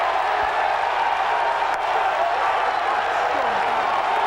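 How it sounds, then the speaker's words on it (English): Barnet football fans applaud and cheer after a goal in a 1991–92 match, a broad crowd roar of clapping with scattered shouts that holds steady throughout. "he milks the applause of the Barnet fans."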